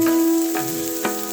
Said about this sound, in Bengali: এখন সবজি খানিকটা ভাজা ভাজা হয়ে গেছে